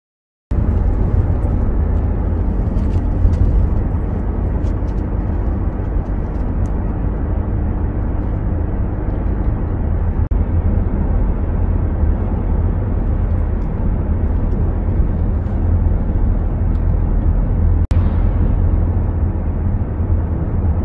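A quad bike with a continuously variable transmission drives along a road, its engine giving a steady, loud, unbroken drone with no gear changes for the whole stretch and no talking over it.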